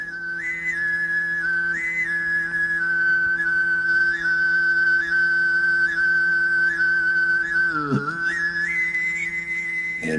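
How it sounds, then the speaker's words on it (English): A steady, melodic whistle on shortwave radio holds long tones with slight pitch shifts and a brief warble, sounding thin and tonal like a radio broadcast. "There was this whistling that was melodic somehow."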